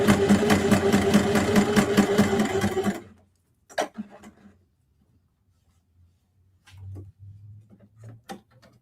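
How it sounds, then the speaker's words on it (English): Sewing machine stitching fabric for a zippered fabric book cover, a dense rapid mechanical chatter running steadily for about three seconds before stopping, followed by quiet handling clicks and faint low hum. "keep everything underneath the sewing machine"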